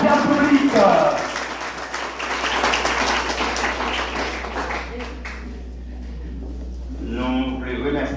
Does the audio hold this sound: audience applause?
yes